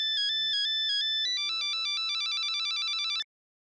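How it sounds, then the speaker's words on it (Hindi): Mobile phone ringtone chiming close by in a classroom: a bright electronic melody of rapid repeated beeping notes stepping between pitches for about three seconds before cutting off abruptly, with faint voices underneath. "मोबाइल की रिंग बजी तब आप जगे"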